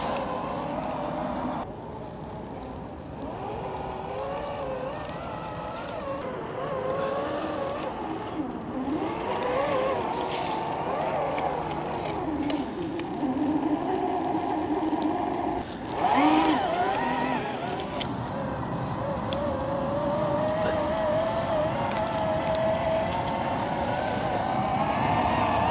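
A $2000 toy tractor driving and pulling a trailer through mud, a steady whining motor hum that rises and falls with the throttle across the whole stretch, fairly close, with someone talking now and then.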